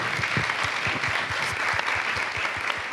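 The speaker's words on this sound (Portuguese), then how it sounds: "Palmas, gente, por favor." Steady audience applause at a literary panel event, many hands clapping continuously at an even, moderately loud level, with little talk over it.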